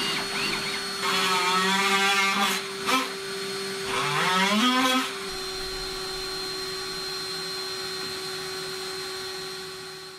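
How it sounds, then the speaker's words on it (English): A power drill driving a Forstner bit into wood, hollowing out the back of a Murphy bed frame part, whines loudly in two rising and falling bursts over steady motor hum, then settles into a continuous drone. "take a Forstner bit and basically dado out the back of this 2/3 or so, and pretty much all the way down"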